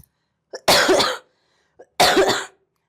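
Two harsh, close coughs from a teacher during a maths revision class, each preceded by a short intake of breath, spaced about a second apart with silence between.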